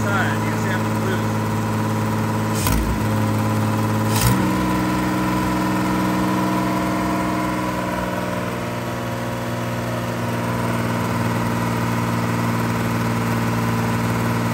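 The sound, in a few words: 1974 Datsun 260Z engine idling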